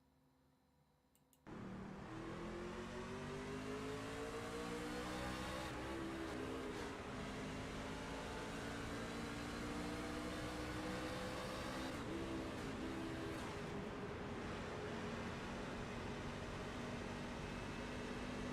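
An onboard race truck engine in the Black Horizon 250 roars in suddenly after a brief quiet stretch, then holds a loud, steady drone. Its pitch climbs and drops with throttle blips and a gear that fails to engage.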